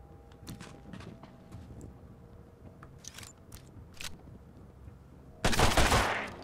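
Video game gunfire in Mutant Year Zero: scattered sharp shots and bursts over a quiet background, ending in a loud, dense volley of fire.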